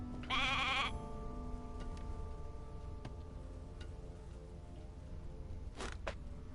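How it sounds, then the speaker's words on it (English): A sheep bleats once, short and wavering, near the start in the video game Divinity: Original Sin 2. A steady low ambient hum follows, with a couple of faint clicks later on. "Hey, a sheep!"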